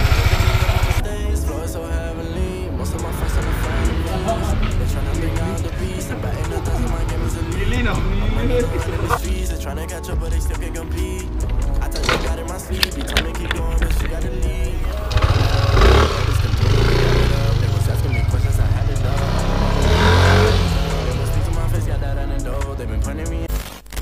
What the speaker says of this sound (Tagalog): So yan mga Thailander, yan yung motor ni Sir Cliff